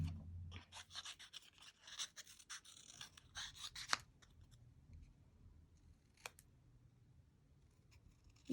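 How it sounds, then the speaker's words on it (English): Fine scissors snip through paper in quick bursts of crisp cuts, then a few isolated snips after a pause, close and quiet. "you do need to make sure you have very fine scissors"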